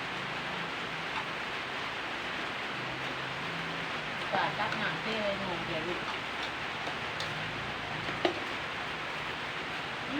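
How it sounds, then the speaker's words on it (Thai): Steady rain falls outdoors at a rural home kitchen, a soft, even hiss of drops that continues throughout, fairly faint, with occasional small knocks. "นี่ฝนตกอากาศก็เช่มเย็นหน่อยจ้ะไม่ร้อนมาก"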